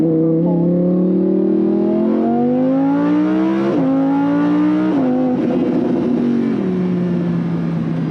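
A Lamborghini Huracan 610-4 with a 600-horsepower 5.2-liter V10 and all-wheel drive revs hard while driving, its loud engine note climbing in pitch through several rising pulls, broken by brief drops at each gear change.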